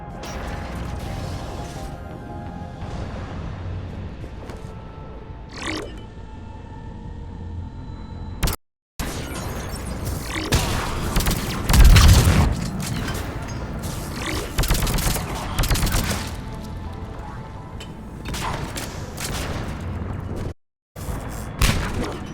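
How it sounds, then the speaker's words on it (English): Cannons fire and explosions boom in the video game Mass Effect 3, a dense, continuous battle din with heavy impacts and mechanical clatter, loud and close throughout with a couple of brief dropouts. "Those cannons have to be stopped."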